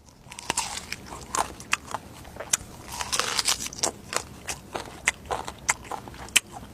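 Someone bites into and chews a large fruit, with a crunchy, crackling bite followed by a run of wet, irregular chewing clicks and crunches close to the mic; no talking.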